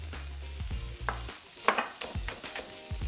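Red chilli with its seeds and spring onions frying in a pan, a soft sizzle under intermittent clanks and scrapes from stirring, quiet and close, without speech.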